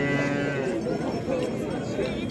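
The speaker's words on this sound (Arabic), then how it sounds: "كي تشوفوا معنا بقر كسابي والخيرات موجودة في حد ولاد عبدون بخريبكاق" Cattle low in a busy outdoor livestock market at Had Oulad Abdoun near Khouribga, Morocco, a dense continuous mix of animal calls and crowd murmur filling the whole stretch.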